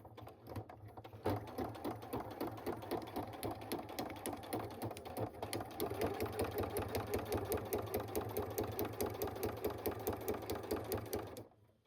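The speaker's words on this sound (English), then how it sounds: "I'm going to sew that" A sewing machine stitches a seam on a handmade junk journal, starting with a soft hum and then running steadily in a close, continuous rapid rattle for about ten seconds before stopping abruptly.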